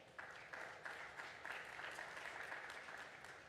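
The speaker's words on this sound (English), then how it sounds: "A big round of applause for Madame Bobin." An audience at an African Development Bank plenary event claps for a speaker, a continuous, even round of many hands heard faintly from a distance without voices.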